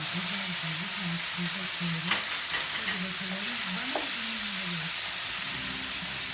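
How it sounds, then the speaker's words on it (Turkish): İçli köfte, stuffed bulgur meatballs, frying in oil in a pan produce a steady sizzle and crackle with a low hum beneath, continuing evenly with a few brief pops and spatters and no speech. "Evet köftelerim kızarmaya yani çok fazla da kızarmıyorum."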